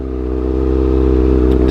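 A 2015 Kawasaki ZX-6R 636 motorcycle fitted with a Racefit exhaust idles loud and close on a New York City street, giving a steady, throbbing exhaust burble with a rapid pulsing rhythm.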